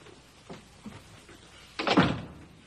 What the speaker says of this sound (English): May I close this door?